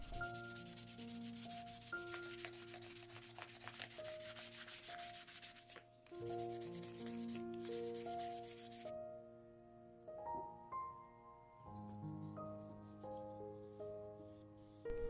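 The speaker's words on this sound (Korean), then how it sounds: "좀 더 고운 사포로" An orbital sander with finer sandpaper smooths a wooden ocarina, giving a steady close rasp that is partly masked by background music with sustained tones.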